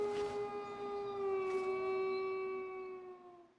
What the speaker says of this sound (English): And you hear the howling of the wolf from MGS1.